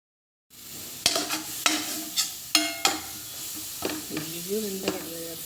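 After a brief silence, onion, ginger and garlic fry together with salt, turmeric, masala, coriander and chili powders in a pan. A loud sizzle swells in, punctuated by several sharp stirring scrapes and knocks at uneven intervals.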